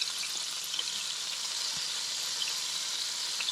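Speckled trout fillets fry in a hot pan, giving a steady, close, bright sizzle with faint pops and crackles throughout and no talking.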